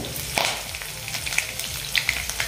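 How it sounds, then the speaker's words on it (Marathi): Crushed garlic cloves and curry leaves sizzling in hot oil for a drumstick dal, a steady close frying crackle with scattered sharp pops and spits. "त्यासोबतच मी इथे 8-10 कढीपत्त्याची पानं टाकते।"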